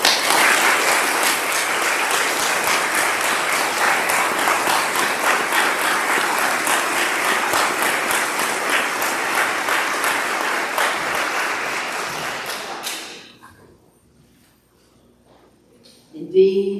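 A worship congregation applauds steadily and loudly for about thirteen seconds before the clapping fades out, leaving near silence and then a brief voice at the end.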